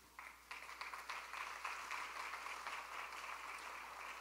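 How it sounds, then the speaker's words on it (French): A ceremony audience breaks into applause that starts abruptly and holds at an even, quiet, somewhat distant level throughout. "Et je demande maintenant à l'assistance de vous applaudir."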